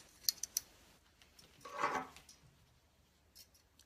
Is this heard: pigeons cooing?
no